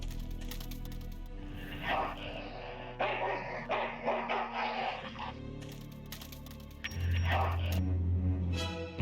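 Dog barking in the video game Full Throttle Remastered, a few sharp barks over a busy game soundtrack with clattering effects and a low rumbling tone near the end.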